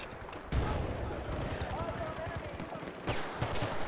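Rapid automatic gunfire from a newly picked-up weapon in Battlefield: Bad Company 2 rattles in dense bursts, jumping louder partway through and continuing with sharp cracks, some game voices mixed in.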